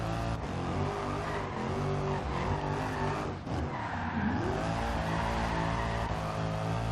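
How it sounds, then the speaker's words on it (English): Rear tires of an AMG E63 Biturbo drift build spin and squeal in Forza Horizon 2 under a steady high-revving engine, with a long continuous screech that rises and bends as the car slides. "This thing has no problem spinning those back tires."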